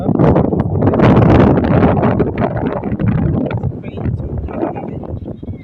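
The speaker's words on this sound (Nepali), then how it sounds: "हावाहुरी लागेको छ" A windstorm roars steadily across the microphone by a sugarcane field, a loud, continuous rushing buffet that swells and eases slightly, with voices faintly buried beneath it.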